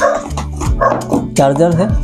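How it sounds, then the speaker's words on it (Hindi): Dogs bark outdoors in a few short overlapping barks over about two seconds, fairly loud, while a person speaks briefly over them. "बाहर कुत्ते भी भौंक रहे हैं देखिए।"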